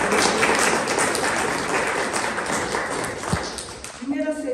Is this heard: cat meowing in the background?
no